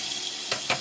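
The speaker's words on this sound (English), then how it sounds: "Ah, you heard that sizzle." Frying in olive oil for chicken chow mein sizzles steadily close up, a constant bright hiss with two brief crackling spurts near the end.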